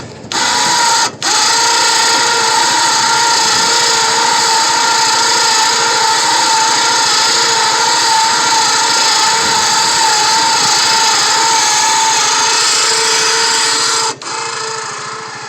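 A Harbor Freight Badlands 2500 lb winch hauls in a strap outdoors with a steady, close motor whine and gear hum, starting and stopping abruptly with brief clicks.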